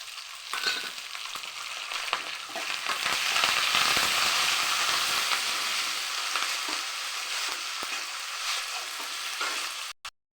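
Garlic, onion and curry leaves frying in oil give a loud, dense crackling sizzle that swells after they hit the pan and holds steady, with occasional stirring, before cutting off abruptly near the end.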